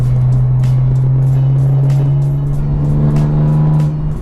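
Modified BMW M4 with its exhaust valve open, a loud, deep, steady roar while cruising in fifth gear, close and sustained with slight rises in pitch.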